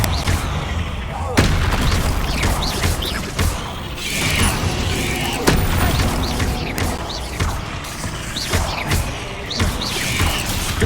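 The Confringo blasting spell explodes during combat in Hogwarts Legacy. Heavy booming blasts hit at intervals over a dense, constant layer of game noise, with a voice calling out among them.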